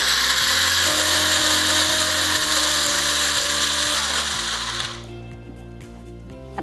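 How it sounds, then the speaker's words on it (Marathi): A mixer grinder grinds maize for a festive Gauri meal, a loud steady whirring roar for about five seconds before cutting off and leaving a quieter low hum with faint background tones. "आता हा मका वाटून झालाय आपला."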